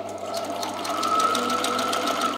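A sewing machine set to a 3.5 stitch width and 1.5 stitch length runs steadily through paper layers, a continuous close whirring hum with rapid needle ticks and no pauses.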